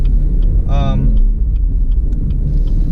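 A 2017 Chevy Camaro 2.0T four-cylinder accelerating, with a deep, loud engine rumble heard from inside the cabin, a brief rising whine partway through and small clicks over the steady drone.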